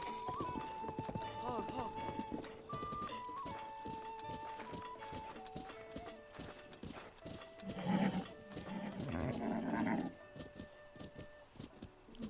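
Hooves clip-clop at a gallop in a stylized rhythm in The Legend of Zelda: Breath of the Wild, with a horse whinny and game music, while someone talks over it.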